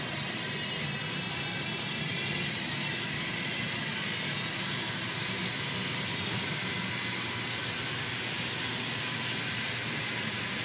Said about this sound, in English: Now the other pump's running.